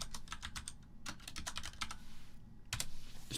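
Quick, close taps on a computer keyboard, a fast run of keystrokes with a short pause and then a few more presses, alone without speech.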